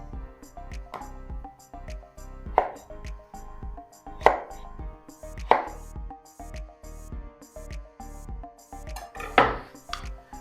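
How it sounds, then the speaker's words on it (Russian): A knife chops a peeled avocado into small strips on a board, giving a steady run of close, fairly soft cuts with a few sharper knocks against the board. "И тоже нарезаем его небольшими полосочками."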